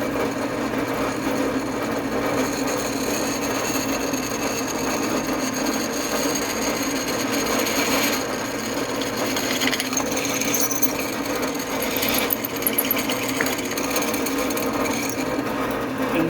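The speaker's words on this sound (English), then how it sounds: "We're going to drill all the rest of it." A power drill drilling holes in wood for a simple greenhouse shelf, a continuous buzzing whir with grinding texture that runs steadily throughout, close and fairly loud, with no talk.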